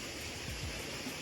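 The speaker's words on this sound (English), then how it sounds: "in the winter the water did come flowing down over the top here" A waterfall flows steadily, giving a faint, continuous broadband rush of falling water with no voices.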